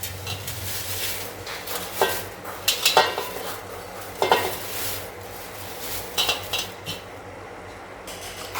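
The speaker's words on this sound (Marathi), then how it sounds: "ह्यातच आपण आता आपले पोहे घालणार आहोत" Thin flattened rice (poha) goes into hot salted oil in a pot for chivda and is stirred, with a soft sizzle broken by sharp clinks and scrapes of a metal utensil against the pot.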